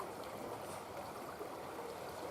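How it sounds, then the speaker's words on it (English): Fast-flowing stream water rushes steadily and faintly in a woodland beaver trapping spot, a continuous even wash with no voices. "water's flowing awful fast"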